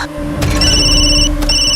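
A telephone rings with an incoming call in a domestic scene, its bright electronic ring tone repeating in two bursts over faint room noise, loud and close, with no talk.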